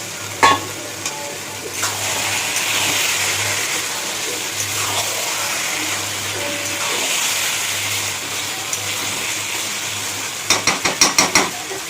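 Fried hilsa fish heads stirred into taro leaves cooking down in a pan: a steady close sizzle with the scrape of stirring throughout, ending in a quick run of sharp utensil knocks.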